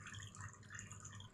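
Water trickles and drips in a small pond, a faint, continuous bubbling patter recorded close up, brief and without any voices.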